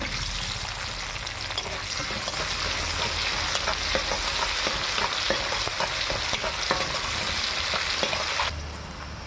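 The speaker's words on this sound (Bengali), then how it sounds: "এই একই তেলে এবার দিয়ে দেবো পেঁয়াজ" Onions hiss and sizzle steadily in hot oil left from frying cauliflower, with faint stirring clicks throughout, close and continuous, no talking.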